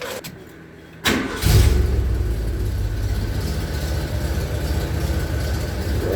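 A quiet lull, then a sharp click and an old, rusty Ford F150 pickup engine cranks and catches, settling into a steady, loud running rumble close by.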